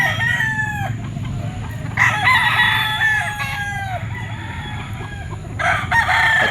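A yellow-legged Golden Boy sweater gamecock crows loudly and close several times, with clucking and other fowl calling around it at a poultry market, and no voices.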